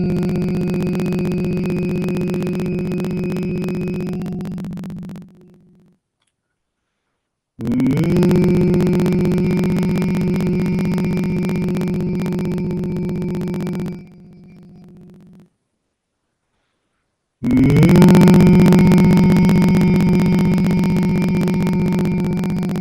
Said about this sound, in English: hum deeply and intensely without stopping